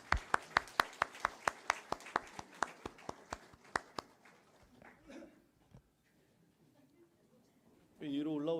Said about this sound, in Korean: 우리 박수로 환영해 주셨으면 좋겠습니다